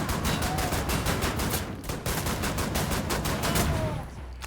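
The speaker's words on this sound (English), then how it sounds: "I love these shotguns, by the way" Shotgun blasts in the Wolfenstein: The New Order shooter, heavy booming shots in a fast repeating rhythm, loud and close, with a short gap partway through.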